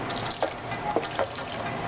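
Milk poured from a glass into a cooking pot, a steady liquid splash with a few brief louder splashes, close by and alone without talk.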